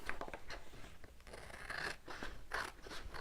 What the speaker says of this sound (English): So I'm just going to cut this on the line.